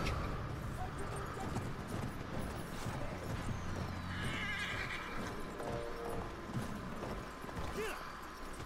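Horses neigh and whinny amid clip-clopping hooves in a Battlefield 1 World War I battle scene, with steady game background noise and a brief voice heard underneath.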